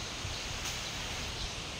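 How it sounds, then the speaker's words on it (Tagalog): A broom sweeps the ground outdoors on a hot day, giving a steady, soft rustling scrape that runs without pause and stays fairly quiet, with no voices over it. "Panilhig ra ko dito."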